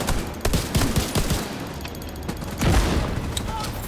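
A grenade goes off during a Division 2 video game firefight, a booming burst among steady gunfire and rattling shots, loud and dense throughout with no clear speech.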